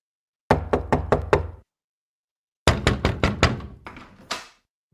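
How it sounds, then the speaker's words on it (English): Someone knocks on a door: a quick, loud run of about five raps, a short silence, then a second rapid series of knocks with a couple of heavier thuds at the end. "Could you knock any louder?"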